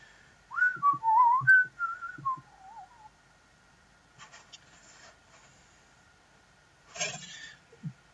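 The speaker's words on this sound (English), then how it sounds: "I don't know why I'm whistling" Someone whistles the bouncy, wavering Delfino Plaza tune up close for a few seconds, followed by quiet rustling and a brief clatter.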